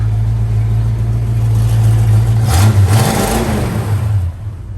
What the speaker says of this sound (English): Listen to the little motor.